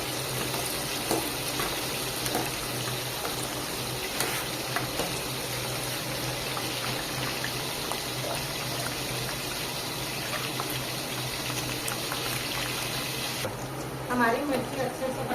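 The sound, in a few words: green chilies frying in hot oil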